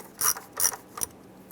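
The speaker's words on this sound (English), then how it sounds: "Using our 8mm socket, we're going to go ahead and loosen the hose clamp here." An 8mm socket ratchet loosens a hose clamp under the hood of a 2002-2008 Dodge Ram, making three short, close, raspy clicking bursts spaced roughly evenly apart over quiet surroundings.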